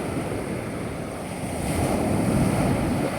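Sea waves wash steadily near a boat at the shore before a crossing to Mararison Island in Culasi, Antique, a continuous surf hiss mixed with gusting wind on the microphone.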